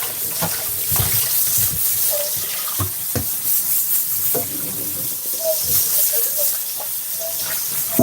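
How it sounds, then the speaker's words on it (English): Hands being washed under a running tap during batch cooking of chicken, with a steady hiss of flowing water and scattered splashes and knocks near a sink. "Giving my hand a bit of wash over the side here."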